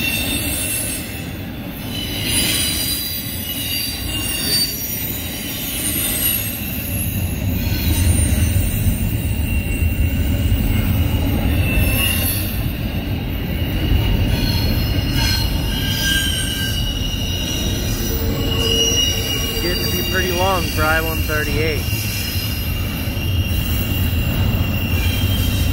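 A CSX freight train hauled by an ES40DC locomotive rolls past close and loud for a long stretch after midnight, wheels squealing and cars rumbling steadily, with no voices.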